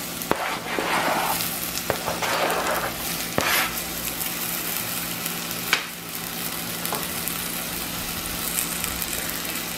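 Potatoes tipped into a pan of lightly fried onions for a Turkish potato soup, giving a steady close sizzle with a few stirring scrapes and soft clunks throughout, no voices.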